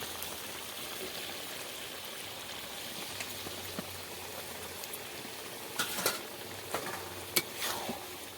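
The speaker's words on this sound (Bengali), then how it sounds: "নেড়ে চেড়ে মিশিয়ে দিচ্ছি" Spinach curry being stirred in a pan after fried shrimp is added, a steady low sizzle with occasional scraping clicks of the spoon toward the end.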